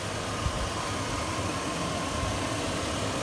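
A 2002 Chevy 5.3L LS V8 engine idles steadily with a low, even rumble and faint mechanical hum, close by and continuous without revving.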